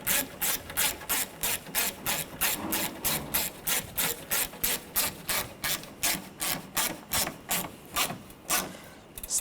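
Ignition coil screws on a 2013-2019 Ford Escape are tightened with a ratchet, producing a steady run of rapid, evenly spaced clicking strokes, close and moderately loud, with no talking.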